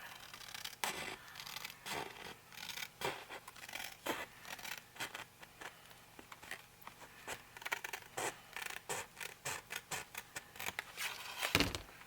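Scissors snip through paper for a file folder folio journal, a steady run of short crisp cuts with brief pauses, close and fairly quiet, with no talking.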